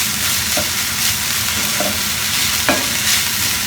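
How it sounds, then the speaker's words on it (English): Collard greens stirred with soy sauce in hot oil over medium-high heat, a steady close sizzle with a few scraping stirs of the utensil against the pan, no talking. "Give it a quick little stir. Start it kind of on a medium-high heat."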